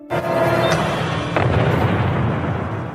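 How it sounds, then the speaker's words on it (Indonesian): A loud, booming bomb blast in the film Don 2 erupts almost at once and leaves a long, dense rumble rolling on afterward, with a sharp crack partway through. "Abdul Jabbar yang mendengar ledakan bom langsung menyuruh anggotanya untuk memeriksanya"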